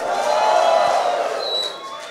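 A live youth gathering at a state house school: a crowd cheers and shouts in a sustained, loud wash of voices that eases off slightly toward the end.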